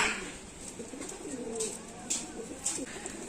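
Kaldom and Laldom breed pigeons, including Allahabadi and Saharanpuri Kaldom, coo softly at a loft, low burbling calls rising and falling under faint background noise, with a few brighter bird chirps.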